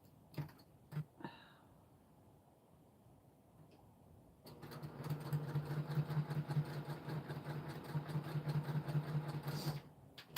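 After a few quiet clicks and taps, a sewing machine starts stitching through a quilt, its rapid rhythmic needle chatter and motor hum running steadily and close for several seconds before stopping.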